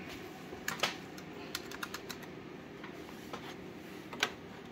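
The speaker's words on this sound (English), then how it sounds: "press F7 on your keyboard" Keys being pressed on a computer keyboard during Windows 10 driver setup, a faint scattered series of light clicks and taps, close and quiet with no talking.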